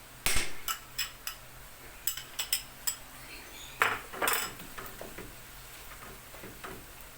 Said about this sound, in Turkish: Şimdi şöyle salçayı da kavurayım.